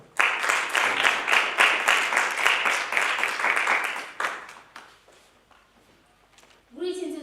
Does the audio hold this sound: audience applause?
yes